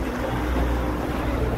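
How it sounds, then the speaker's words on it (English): A sailboat sailing on the open ocean in the Exumas, Bahamas. A steady broadband rush of wind and water, loud and constant, with no distinct events and no talk. "What a great day of sailing."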